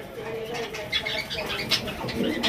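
Cream-coloured Irani toggy fancy racer pigeons in a loft, soft low cooing and faint rustling close by, with people talking over the birds throughout.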